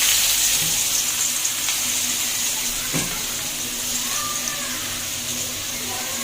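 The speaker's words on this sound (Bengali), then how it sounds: "বেরেস্তার জন্য পেঁয়াজগুলো ভেজে নেব।" Onions fry in hot oil for crisp beresta, giving a loud, even sizzling hiss that runs close and unbroken, with a faint knock partway through.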